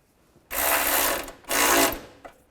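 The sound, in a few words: ratchet tightening a bolt on a Chevrolet Cobalt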